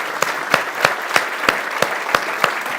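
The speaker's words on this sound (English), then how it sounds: "could give, again, Alex, Steve and Catherine a big round of applause." Rhythmic clapping from a crowd, sharp regular claps standing out over a dense wash of applause, fairly close and steady.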